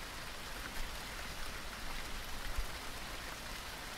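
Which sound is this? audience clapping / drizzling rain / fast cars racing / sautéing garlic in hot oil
drizzling rain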